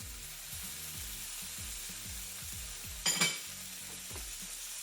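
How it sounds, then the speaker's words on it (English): Pineapple and mushrooms fry in a pan with a steady low sizzle, while a utensil stirs and clinks against the pan near the middle. "And now I'm going to add the pineapple and the mushrooms"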